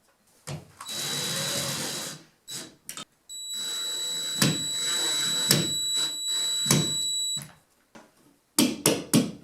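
Close bursts of a power drill or driver tightening screws on a ceiling fan mounting bracket, several whirring runs of a few seconds each with short pauses and clicks between them, no talking.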